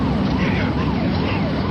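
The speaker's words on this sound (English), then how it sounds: "I seen the ambulance coming down the other side, and I was hoping it was the right ambulance." An ambulance siren wails steadily at moderate distance through loud background rumble, its rising and falling tones sweeping continuously throughout.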